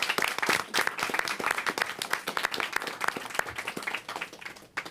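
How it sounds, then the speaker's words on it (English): Audience applause at the 92nd Street Y in New York City, a fairly quiet spread of individual claps with distinct sharp hits, uneven and moderately sparse, fading toward the end. "So everyone, let's give Stephanie a round of applause"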